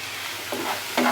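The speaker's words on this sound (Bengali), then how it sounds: "খুব ভালো করে মশলাটাকে কষিয়ে নিতে হবে, যাতে কোনো রকম কাঁচা মশলার গন্ধ না বেরোয়।" Masala spices fry in a pan for a pomfret fish curry, a steady close sizzle broken by two scraping stirs of a spoon.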